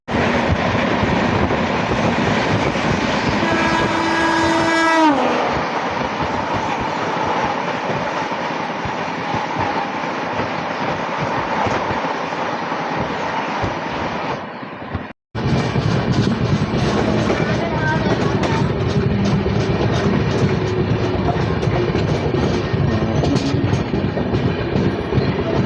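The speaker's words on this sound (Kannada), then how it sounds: "ವಿಶ್ವಮಾನವ ಎಕ್ಸ್ಪ್ರೆಸ್ ಈಗ ಕ್ರಾಸಿಂಗ್ ಆಕೈತೆ ನೋಡ್ರಿ" The Vishwamanava Express rumbles past at close range with steady clickety-clack from wheels on rails and a brief screech early on, loud and continuous throughout.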